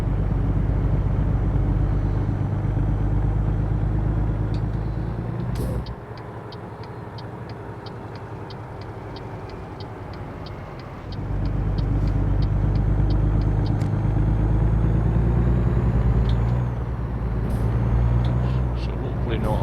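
Big rig engine rumbling and changing down through the gears while joining the freeway in American Truck Simulator, a steady loud low drone that dips briefly as revs drop, then surges back, with faint ticking clicks above.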